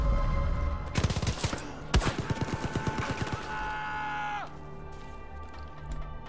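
A heavy gunner's machine gun fires in Far Cry 5 on a custom valley map, a fast burst of sharp, evenly spaced shots with a lone crack before it, then a fading ringing tail.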